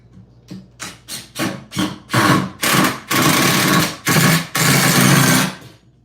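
A hot, overheating power drill driving a screw into wood while building a table, heard as a series of short whirring bursts that grow longer, loud and close, with no talk.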